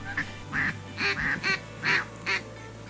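Several mallard ducks quack in quick, raspy bursts close by during a duck hunt, about eight calls over a few seconds with a low steady hum underneath.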